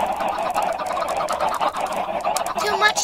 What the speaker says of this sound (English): Ah, my chickens.